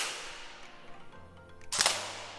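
A BOLT airsoft electric gun with simulated recoil is fired at an aluminum can, producing one sharp snapping shot near the end of an otherwise quiet stretch of faint background noise.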